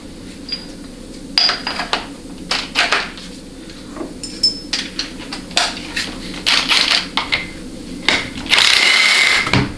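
A 15mm socket wrench loosens the extension housing-to-case bolts on a GM 4L60E automatic transmission during teardown. Sharp metallic clicks and clanks come in short irregular bursts, close by, with no talk over them.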